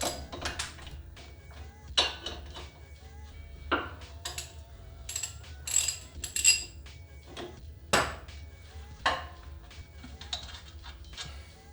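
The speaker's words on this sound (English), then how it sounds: "we remove the brake caliper held on by two 17mm bolts" A ratchet works on the 17mm bolts of a brake caliper on a Toyota MR2, giving scattered close metallic clicks and clanks at an uneven pace in a quiet garage.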